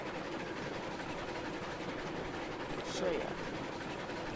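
A slow Shay steam locomotive in Railroads Online hauls log cars, its steady rumbling engine and track noise running continuously at low level beneath someone talking briefly.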